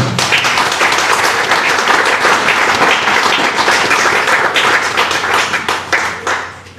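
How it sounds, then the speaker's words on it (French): Warm applause from an audience at the inauguration of a renovated chapel, steady close clapping that tapers off toward the end. "je vous demande de l'applaudir chaleureusement"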